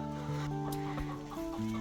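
Several chickens cluck close by in overlapping, steady calls, with a sharper squawk or two among the continuous murmur.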